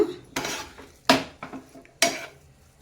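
A utensil stirs a bread stuffing mixture in a metal vessel for a street-style breakfast, making four sharp clanks against the pot, each trailed by softer scraping, with no talking.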